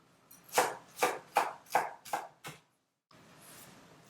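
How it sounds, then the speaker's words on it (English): A knife chops vegetables finely for Persian Ghormeh Sabzi, six sharp, evenly spaced strokes on a board close by, followed by a short pause and then a softer scraping rustle. "It should be very finely chopped."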